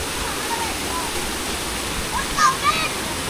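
A spring of drinking water flows steadily, a continuous rushing splash with a brief louder spatter near the end, with voices faintly in the background.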